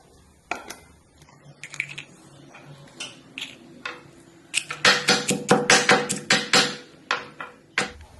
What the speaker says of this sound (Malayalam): ഇടികല്ലേ ഇട്ടൊന്ന് ഇടിച്ചെടുക്കാം